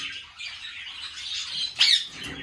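A double-reflector sun conure parrot in an aviary gives loud, harsh calls, with a sharp shrill squawk rising near the end over steady chattering.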